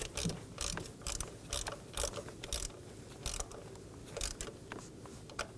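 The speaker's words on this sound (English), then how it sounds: "We're going to hand thread on our bolt. And snug it down using your 8mm." Hand ratchet with an 8mm socket snugging down an ignition coil bolt on a 2014-2023 Ford Transit Connect 2.5L four-cylinder, a run of quick, close metallic clicks in short bursts with brief pauses between strokes.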